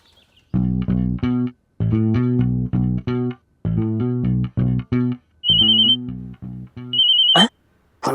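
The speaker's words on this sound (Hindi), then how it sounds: "फोन आ गया।" A phone ringtone plays a repeating electronic melody in short bursts, loud and close, ending with a couple of high beeps.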